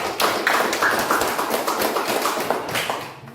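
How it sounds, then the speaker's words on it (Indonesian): Students in a classroom applaud for a presenting group, a dense burst of clapping that stays steady and fairly close for about three seconds before tapering off. "tepuk tangan untuk kelompok 4"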